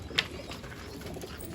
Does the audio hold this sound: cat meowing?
no